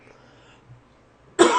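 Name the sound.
cough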